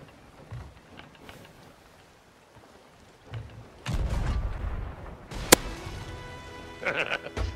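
Cannon fire aimed at a rival ship in the pirate game Sea of Thieves, heavy booming blasts with a sharp crack amid sea and ship noise, after a quiet stretch.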